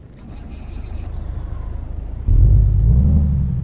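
A Detroit Diesel 60 Series truck engine in American Truck Simulator drones steadily at low pitch, then jumps to a louder, heavier roar partway through as it revs, with a faint whine on top.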